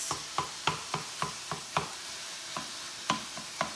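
Chicken meat for lettuce wraps cooks in a pan after onions and garlic, with a soft steady sizzle broken by regular scraping stirs of a utensil, about one every third of a second, close and moderately quiet.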